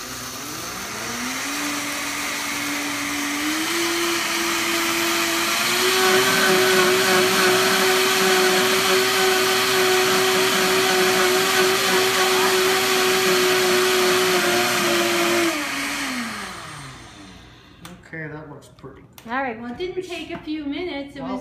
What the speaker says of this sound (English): we're just gonna blend it up in the Vitamix